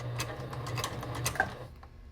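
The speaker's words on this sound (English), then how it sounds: "I'm sewing it on the line right now." Sewing machine stitching a flap pocket, a rapid close mechanical ticking run of stitches that stops abruptly near the end, with no talking.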